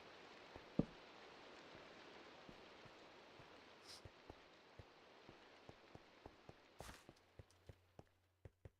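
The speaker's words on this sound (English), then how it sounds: "you can hear the rain" Steady rain from Minecraft's weather patters softly and evenly, with a string of sharp, regular taps like footsteps running through it, growing more frequent toward the end.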